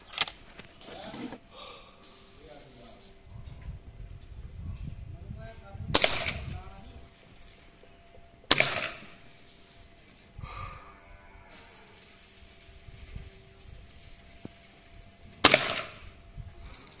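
Crosman Optimus air rifle firing pellets outdoors: several sharp, loud cracks spaced seconds apart over a quiet background, with faint cattle lowing nearby.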